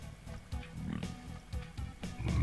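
A pig-like enemy creature in the video game Duke Nukem 3D gives several short, repeated grunts at a moderate distance.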